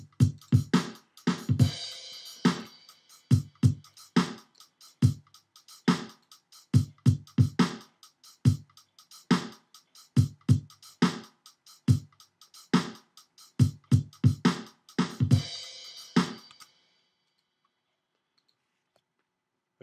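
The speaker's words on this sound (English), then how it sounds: "So I've got a kit here with a nice crash cymbal on it. I'm gonna add this at the start of the next bar." A programmed drum fill on a software kit plays as a run of punchy, rhythmic hits with crash cymbal splashes near the start and end, stopping abruptly into silence.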